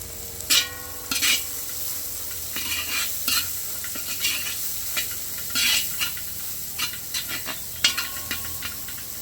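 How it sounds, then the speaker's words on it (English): Steady sizzling and hissing of curry frying in a pot outdoors, punctuated by repeated scraping stirs of a utensil, close and fairly loud. "this is it here, frying up in the pot"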